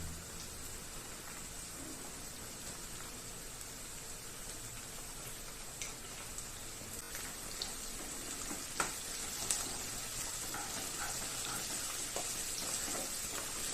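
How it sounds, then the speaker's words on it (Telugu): Ginger garlic paste frying with already-fried onions for a stuffed chilli tomato curry, a steady soft sizzle with faint scattered crackles and a few sharper pops near the end, no voices. "సో ఆనియన్స్ ఫ్రై అయ్యాయి కదా, దీనిలో కర్రీకి సరిపడా అల్లం వెల్లుల్లి పేస్ట్ వేసుకోవాలి."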